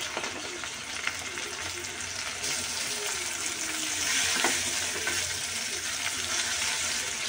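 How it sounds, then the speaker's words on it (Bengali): Shrimp fry with onions in a hot pan, giving a loud, steady crackling sizzle throughout with slight surges in intensity. No one speaks. "তার মধ্যে দিয়ে দিব আমি আসল জিনিসটা, চিংড়ি মাছ।"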